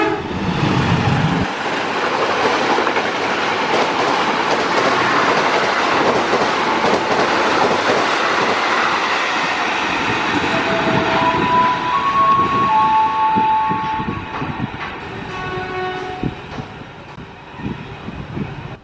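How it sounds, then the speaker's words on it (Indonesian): A train rushes straight through a station on track 2 without stopping, a loud, close rumble with steady clatter. Brief tonal horn or whistle notes come through near the end as the noise eases off. "Jalur 2 kereta api melintas langsung"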